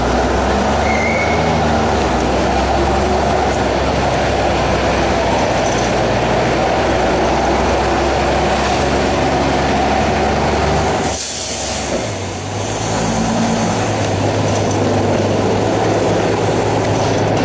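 A Melbourne City Circle tram rolls along with a continuous loud rumble and hiss. The noise dips briefly near the end, then a low hum and the same steady rumble return.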